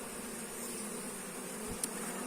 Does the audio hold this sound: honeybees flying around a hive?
yes